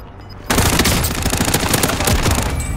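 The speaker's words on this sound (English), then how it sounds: "Taking direct fire." Gunfire in Call of Duty: Modern Warfare breaks out suddenly after a quiet moment, becoming loud, rapid automatic bursts that continue without pause to the end.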